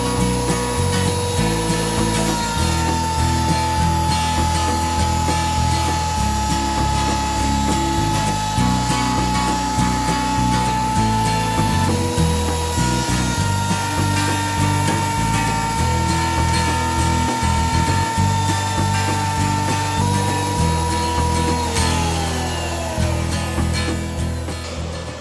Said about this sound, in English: the way I'm going to do that is to use a planer that I have